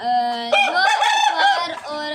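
Roosters loose in a yard crow loudly and close by, one long harmonic crow flowing into another with a few clucks near the end.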